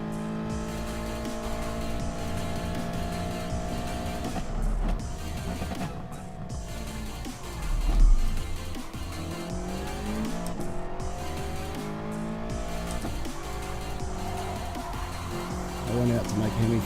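Racing cars in a sim racing game at the Nürburgring GP circuit, engines droning and shifting as they brake and accelerate, with occasional tire squeal, close and steady, while someone talks over it.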